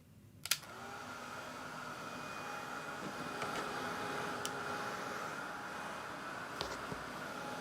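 A hair dryer drying a watercolor painting blows with a steady, even whoosh from start to end, starting with a click and holding constant at close range.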